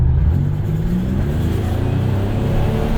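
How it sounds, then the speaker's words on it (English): A Buick Grand National engine revs under boost, a loud, close, low rumbling drone with rising pitch sweeps, continuous throughout with no talk. "Let's see if I can get you guys some audio, some good audio of this engine."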